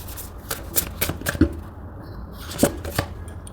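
Tarot cards being shuffled and drawn, close, crisp riffling bursts and light snaps of card on card in short clusters, with quiet gaps between them.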